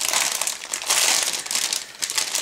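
A plastic bag holding model kit sprues for a 1:48 scale passenger airplane crinkles loudly and close up in continuous rustling bursts, with no talking.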